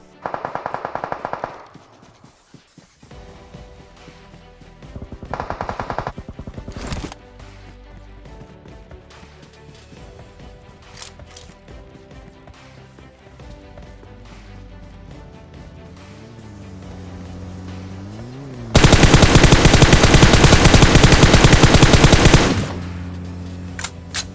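Bursts of automatic gunfire in a PUBG match: short rapid volleys early on, quieter stretches between, then a long loud sustained spray of shots near the end.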